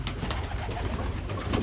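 Pigeons coo softly and repeatedly inside a pigeon loft made from an old goat barn, a close, continuous murmur of overlapping calls with no talking.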